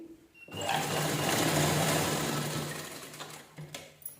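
A sewing machine stitches a folded strip for an unlined princess blouse, its steady, close motor whir running unbroken for about three seconds before it slows and stops.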